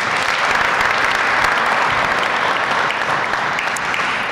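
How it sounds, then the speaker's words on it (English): An audience at a recreation center ribbon-cutting applauds the NBA's Global Ambassador Dikembe Mutombo with loud, full, steady clapping from many people that continues throughout. "A big round of applause for the NBA's Global Ambassador"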